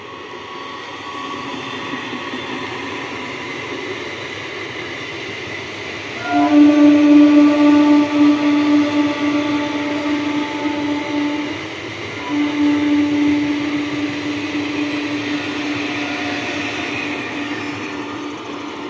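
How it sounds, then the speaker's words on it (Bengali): A 12-coach three-phase Lalgola–Kolkata MEMU train runs past with a steady rumble, joined midway by a loud sustained horn blast, then a second shorter horn sounding as the train draws on. "সেটা হচ্ছে লালগোলা কলকাতা মেমু।"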